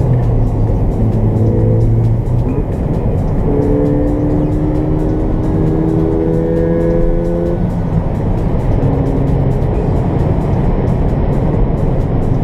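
Ford Fiesta ST engine pulling steadily through the gears, a continuous loud drone with rising tones that step up and reset between shifts, heard from inside the cabin with no talking.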